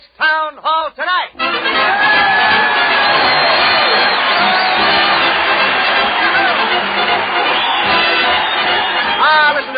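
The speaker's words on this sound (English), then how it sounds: "Listen to that crowd cheer Fred Allen as he heads his weekly parade to the old town hall" A studio crowd at a live comedy radio broadcast with a marching band parade setting cheers loudly and continuously, a dense roar of voices and whoops after a few brief opening shouts, holding steady throughout.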